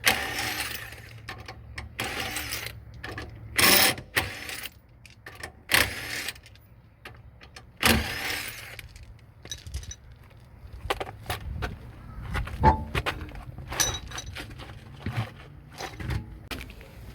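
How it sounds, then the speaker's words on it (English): Jacking up a Nissan 350Z/G35 and pulling off a wheel produces a string of scattered metallic clanks, clicks and rattles of tools and lug nuts, with several sharp louder bangs, close by over a quiet low hum. "we're going to jack it up, put it on jack stands, and we're going to remove our wheel."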